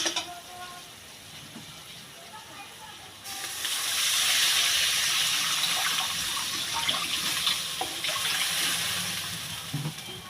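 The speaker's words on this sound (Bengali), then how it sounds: "এবার আমি জল দেবো" Water is poured into sizzling chanda fish curry masala in a pan, a sudden loud hiss and bubbling rush that holds steady for several seconds after a quieter lead-in, with a voice in the background.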